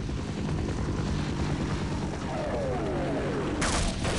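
Helicopter in the video game Half-Life, a continuous rotor thrum close and loud throughout, with gunfire and a sweeping whoosh layered over it.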